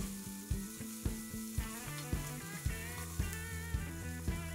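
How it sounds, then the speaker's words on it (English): Chili and garlic frying in a pan, heard as a near, regular series of sharp clicks with a tonal ring and a faint sizzle underneath, about two per second, with no voices. "We fry them just a little bit."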